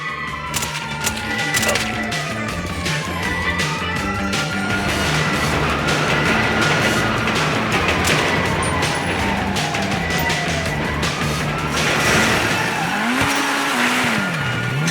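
A car in GTA Online's Cluckin' Bell Farm Heist roars continuously at high revs, with engine pitch rising and falling through gear changes and repeated tire squeals and skids, loud and steady throughout.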